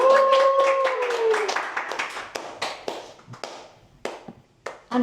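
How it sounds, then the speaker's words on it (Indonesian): A small audience gives a short round of clapping, a few distinct hand claps rising over a speaking voice and then thinning into sparse taps as talk continues. "tepuk tangan dulu"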